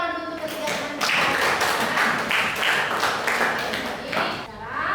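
Classroom of students clapping together for three classmates, a steady dense patter of many hands close by, with a few voices mixed in near the end.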